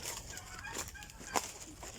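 A pet turkey in a jungle-like yard gives short, clucking gobbles, with one sharper call standing out partway through the brief, fairly close stretch.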